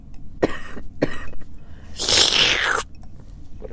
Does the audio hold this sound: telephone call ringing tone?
no